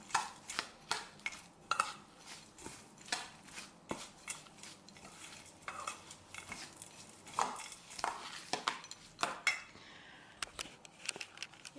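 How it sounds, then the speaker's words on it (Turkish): Seed mixture being stirred in a bowl, a utensil repeatedly scraping and tapping against the sides in a quick, uneven rhythm of close clinks and rustles, with no voices. "Şöyle iyice karıştırıyorum."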